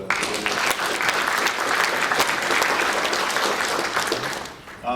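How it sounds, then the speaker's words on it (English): Conference audience at a VMware user event giving a round of applause, a full, sustained clapping from a large room that holds steady for several seconds before thinning near the end. "So also a quick round of applause for"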